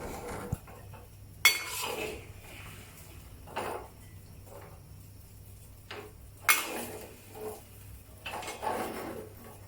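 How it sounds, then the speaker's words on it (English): Metal spatula scraping and clinking against a wok while pushing scrambled egg and spinach to the side, a few sharp scrapes and taps over quiet kitchen background, close by. "push the newly formed egg layer to the edge of the wok and let the remaining egg liquid spread on the wok"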